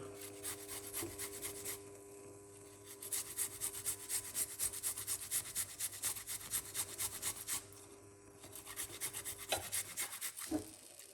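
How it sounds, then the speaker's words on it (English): A fresh piece of ginger is grated into liquid, giving a rhythmic, close rasping scrape that repeats in quick strokes with brief pauses. "Grate in this lovely piece of a ginger into the liquid."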